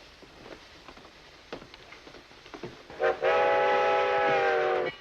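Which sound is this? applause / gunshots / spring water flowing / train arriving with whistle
train arriving with whistle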